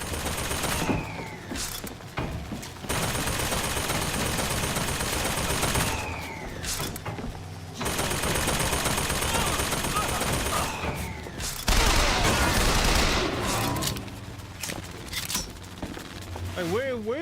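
Gunfire in the shooter game Bioshock Infinite, sustained loud bursts of shooting with brief pauses across the stretch. Speech is faint or absent.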